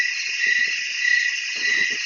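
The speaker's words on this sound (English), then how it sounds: "They heard crickets chirping and frogs calling in deep voices." Crickets chirp in a steady, dense high-pitched drone through the woods at night, while frogs call in deep, intermittent croaks underneath, close and fairly loud with no talking.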